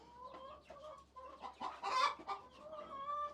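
A rooster clucking and calling among hens on a farm, a series of short throaty notes building to a louder call, fairly close and with no talk over it.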